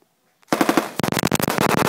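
Rapid automatic gunfire at a shooting range target, a tight burst of loud close shots after a brief silence, followed by a second longer rattling burst.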